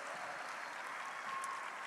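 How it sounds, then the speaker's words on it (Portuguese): A church congregation at a family worship service gives a soft, steady wash of applause that sounds distant and continuous throughout, with no clear voices over it. "nós queremos aplaudir ao Senhor, agradecer ao Senhor pela tua vida"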